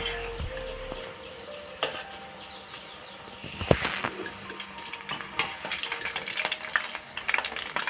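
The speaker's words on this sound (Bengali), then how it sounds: "মিষ্টিগুলো ভাজা হয়ে গেছে, এবার আমি নামিয়ে নেব।" Semolina sweets fry in hot oil in a pan, giving a steady close sizzle with a few faint clinks of a utensil and no talk.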